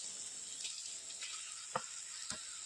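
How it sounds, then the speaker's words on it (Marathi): Squid pieces dropped into a pan of Konkani-style spiced gravy set off a steady broadband sizzle with a few soft stirring clicks, close and moderately loud, with no talking. "आता ही ग्रेव्ही झाली ना त्याच्यात मी माकली टाकतो"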